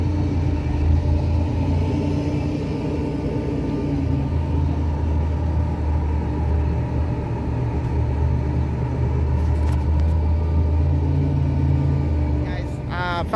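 A Pontiac Fiero engine runs at a steady idle at an outdoor Fiero anniversary gathering, a continuous low rumble throughout, with faint background voices and a brief higher mechanical whine near the end.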